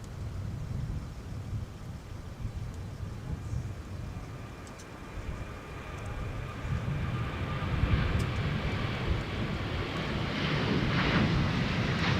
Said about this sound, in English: Departing off of runway 30 left for American Airlines to Dallas